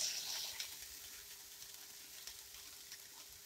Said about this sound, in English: We can hear that sizzling away.